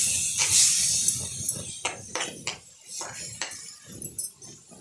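Grated carrot halwa stirred with milk in a pan makes soft, wet scraping strokes, several distinct sweeps close by, with faint clinks of the utensil against the pan and no talking.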